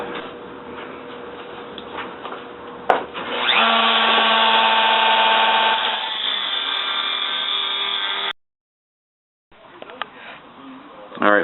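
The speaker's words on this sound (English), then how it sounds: "So now I'm just going to cut off this old patch that covers up the old seam, so I can get at the rust." Power tool cutting an old patch off the rusty driver-side rear fender of a 1970 Triumph TR6, running as a loud steady whine for several seconds, stopping briefly, then starting again, with quieter workshop noise between.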